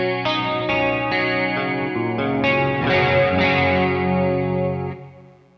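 Clean electric guitar through a Kemper Profiling Amplifier rings out a series of chords with a chorus-like shimmer. Each strum sustains into the next, and the final one fades away. It is played alone, without talk.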